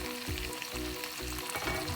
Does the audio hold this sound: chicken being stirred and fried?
yes